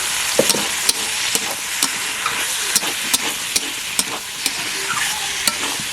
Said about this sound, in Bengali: দিয়ে বেশ কিছুক্ষণ একটু নাড়াচাড়া করে নেব